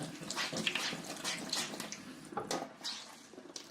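A dirty beauty blender makeup sponge full of soapy suds is rinsed under a running tap, with a steady broadband splash of flowing water and small drips and squishes throughout.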